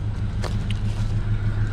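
A cheap, older Ford Ranger pickup engine runs at a steady idle with a low, even rumble and a couple of faint clicks from nearby handling.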